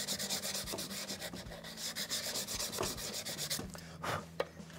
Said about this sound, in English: Let's sand this off a little bit.